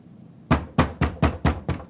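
Six heavy thumping knocks on a door, evenly spaced and close, loud and sharp against a quiet background with no voices.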